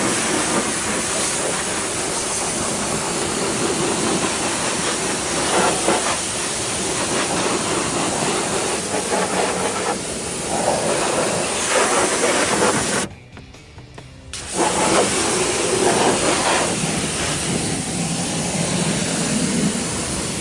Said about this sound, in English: So let's get rinsing off. I like to start at the top and go down so all the junk is being flushed down.